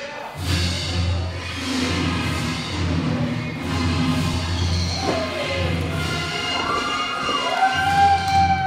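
Wrestling crowd cheering and shouting throughout a wrestler's ring entrance at an IZW Adrenaline event, a steady loud roar with occasional thuds and whistle-like tones on top, no clear talk.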